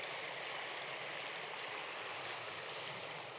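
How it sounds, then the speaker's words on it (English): Faint, steady rushing of a stream of water flowing past in the Norwegian mountains, a soft continuous wash heard alone at a distance, with no speech. "sitting here watching the water go past"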